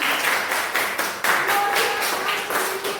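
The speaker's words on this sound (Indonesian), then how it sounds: "Tepuk tangan." Short burst of group clapping after a class presentation, uneven rhythmic claps from a small group, fairly close and loud, with faint voices mixed in.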